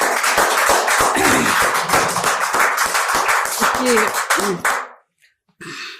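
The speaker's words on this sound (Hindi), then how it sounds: "मन से ताली बजाए, भरपूर मन से करो जाए" Audience clapping at a Hindi poetry recital (kavi sammelan), a dense run of claps under a speaking voice that breaks off into a short pause before more sound resumes.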